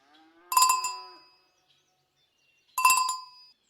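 Two separate cow moos a couple of seconds apart, each a clear tonal call with near-silence in between.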